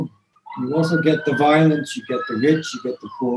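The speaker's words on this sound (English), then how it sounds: "you can hear an ambulance right outside my door right now" An ambulance siren wails steadily in the background, rising and holding its pitch as it passes by, partly buried under someone talking close up.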